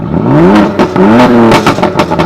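A loud modified exhaust on a Ferrari 430 Scuderia with a gated six-speed manual revs up and down in rising whooshes as it accelerates past nearby, with a raspy, throaty tone.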